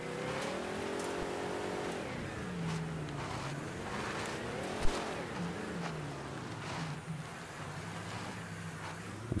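A car in the Mafia III video game cruises steadily with a continuous engine drone and shifting revs, wind noise layered over it, and one sharp knock near the middle.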